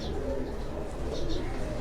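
Pigeons coo softly at a loft, the low murmuring steady under a dull background hum.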